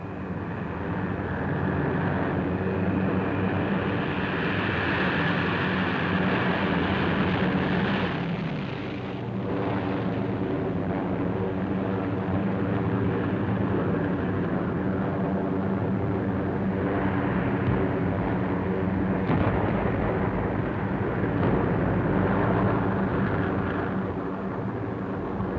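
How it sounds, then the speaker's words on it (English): Waves of World War II bomber planes pass overhead in a continuous, heavy droning roar that swells and fades slightly across the stretch, with no voices. "the seemingly endless waves of planes"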